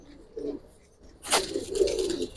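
Giribaz pigeons coo nearby, a short low murmur followed by a sharper sound and a longer, louder rolling coo, with a faint voice in the background.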